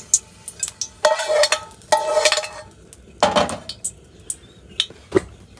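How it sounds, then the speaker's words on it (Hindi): Onion, tomato and garlic tempering fried in leftover oil, heard as several bursts of spatula scraping and clinking against the pan over a soft sizzle, with no talking. "अब ये जो तेल बचा है ना, बस इसी में हम छोंक लगा देंगे"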